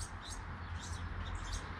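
Young quail chicks without tail feathers chirping inside an outdoor aviary, faint high peeps scattered in small bursts over a steady low background hum.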